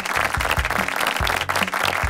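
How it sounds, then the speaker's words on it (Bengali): A studio audience at a televised reality talent show breaks into loud, sustained applause, with dense clapping throughout and low droning tones pulsing underneath. "জোরে একটি করতালি হয়ে যাক তাহলে"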